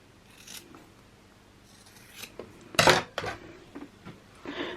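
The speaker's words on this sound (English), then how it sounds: "I then trimmed close to the stitching" Scissors snip through stretch fabric close to a sewn seam, giving a few scattered crisp cuts and one louder, sharper snip in the middle, with light handling rustle between them.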